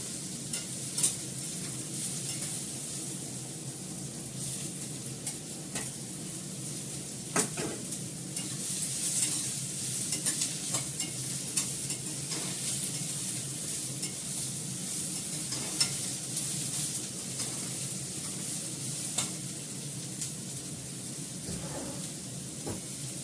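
Onions frying in a pan for biryani, a steady close hiss and sizzle running throughout with occasional soft stirring scrapes and clicks, no speech.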